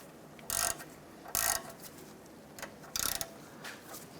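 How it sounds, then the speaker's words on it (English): Ratchet wrench tightening a bolt on the front engine mount bracket of a 1994-2004 Chevrolet S10, three quick bursts of rapid clicking with short gaps between, close and fairly loud. "Let's tighten up the bolt here on our front bracket."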